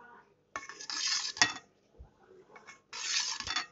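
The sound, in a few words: knife cutting set jelly for custard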